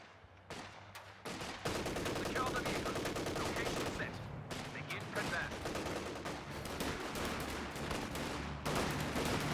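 Rifle fire from Company of Heroes 2 crackles in dense, overlapping volleys of sharp shots, loud and continuous over a rumbling battle bed, with no voices heard.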